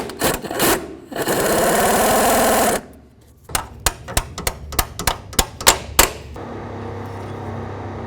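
Ratcheting wrench loosening the center bolt of a transmission mount on a 2007-2017 Jeep Compass, driver's side: a sustained grinding burst early, then a quick series of about ten sharp clicks close by.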